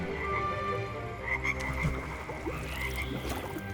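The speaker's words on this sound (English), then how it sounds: "I got it up and running again, added a few water lilies and koi, and eventually the frogs showed up." Frogs at a garden koi pond with water lilies croak in a dense, continuous chorus, with overlapping rasping calls close by and no voices.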